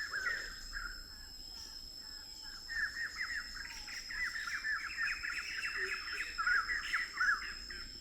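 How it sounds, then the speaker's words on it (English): Many birds call and chirp in Cambodian jungle near Angkor-era ruins, a busy layered chorus of tweets and whistles over a steady insect drone, moderately distant with no talking. "Wow, the bird life is insane right now."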